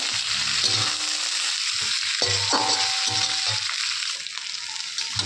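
Ginger-garlic paste sizzles and fries steadily in a hot pan, with the scrape and clink of a spatula stirring it, continuous and close.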